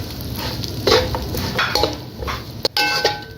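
Crushed coconut fries briefly in a pan with a light sizzle, while a spoon stirs and knocks against the metal with a few sharp clinks, heard close and without speech.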